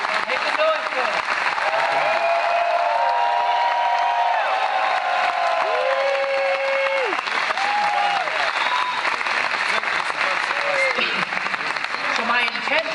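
An audience at a leadership talk breaks into sustained loud applause with cheering and whistles, a dense continuous crowd roar throughout.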